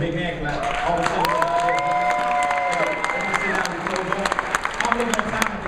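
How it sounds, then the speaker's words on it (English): An audience at a Las Vegas seminar bursts into applause and cheering, with a sustained wash of clapping and a voice calling out over it at the start. "Give yourself also a big hand clap."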